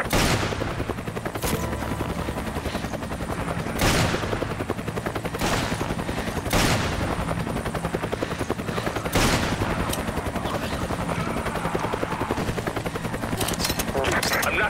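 Gunfire in the video game Resident Evil 5 rattles in dense bursts with heavy booming shots, loud and continuous over a constant rumbling background, with a voice talking over it.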